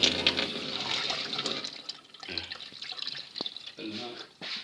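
Water rushing and gurgling through a washing machine under repair, a steady close flow with drips and splashes, with someone talking over it.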